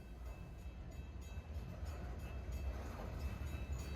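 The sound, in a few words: freight train passing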